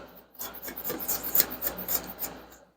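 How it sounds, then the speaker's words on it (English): A knife minces garlic cloves on a cutting board, a quick run of close, crisp tapping and scraping strokes at a moderate level. "I'm just going to mince them up"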